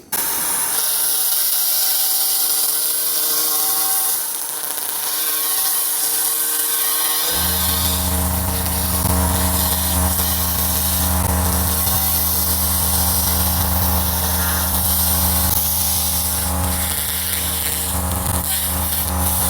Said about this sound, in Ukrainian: Будемо працювати імпульсним станочком 35 Вт потужності